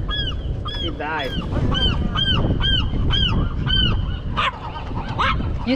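Geese honking at Half Moon Bay on the California coast: a flock calls in quick repeated nasal honks, several birds overlapping close by, over steady outdoor wind and background noise.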